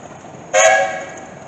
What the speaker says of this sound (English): You have to play with the whistle for a little bit.